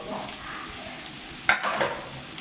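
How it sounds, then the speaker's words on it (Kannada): Food deep frying in oil while chicken biryani is being made, with a soft, even bubbling sizzle broken by one sharp clink and a brief flare of stirring. "ಇದನ್ನು ಕ್ಲೀನಾಗಿ ಡೀಪ್ ಆಯಿಲ್ ಫ್ರೈ ಮಾಡ್ಕೊಳ್ಳೋಣ"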